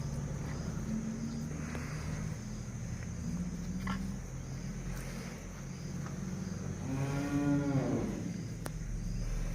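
A young Hallikar ox, about two years old, gives a single low moo near the end, heard against steady outdoor farm background noise with faint distant clatter and no speech.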